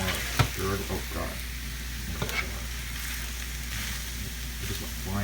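Vegan meal ingredients sizzle in a pan on high heat, a constant close hiss with a few sharp stirring scrapes and knocks, while a voice speaks faintly in places.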